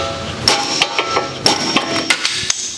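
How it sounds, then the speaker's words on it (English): Sharp metallic hammer blows ringing out at irregular intervals, several hard strikes close by with a bright clang on each hit, knocking loose a lower ball joint during a 2011 Honda Accord wheel bearing replacement. "Need a bigger hammer."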